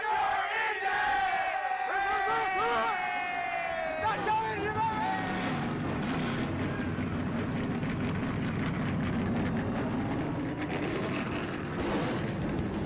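Race car engines firing up at Darlington for the Too Tough to Tame 200, a rising roar of many engines swelling under a cheering crowd and a voice on the public address.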